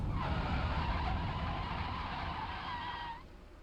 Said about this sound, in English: So now, whenever you brake in a car, it now sounds like this.